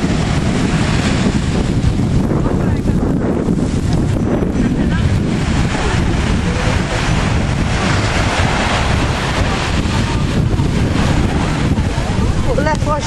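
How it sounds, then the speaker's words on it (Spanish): Wind and surf on a beach in December, a steady loud roar with heavy wind buffeting across the microphone and waves washing continuously underneath, with no clear breaks. "Hoy el 6 de diciembre estamos en la playa."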